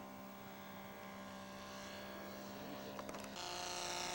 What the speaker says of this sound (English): Flyby for Gary.